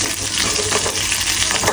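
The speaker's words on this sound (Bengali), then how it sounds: "এই যে আমাদের পেঁয়াজু ভাজা হচ্ছে" Onion fritters deep-fry in a pan of hot oil, giving a loud, close, continuous crackling sizzle with no voices.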